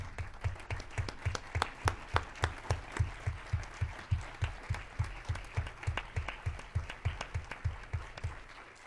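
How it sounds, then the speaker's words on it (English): Audience applause at a closing ceremony, heard as a steady train of sharp, evenly spaced claps with a strong low thump, fairly close and without speech. "You merit for one applause."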